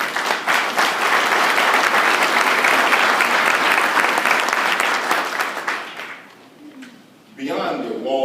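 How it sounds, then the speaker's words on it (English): An audience applauds loudly and steadily at a grand opening celebration. The clapping fades after about six seconds, and a voice then begins speaking. "that's something we should applaud and certainly be thankful for"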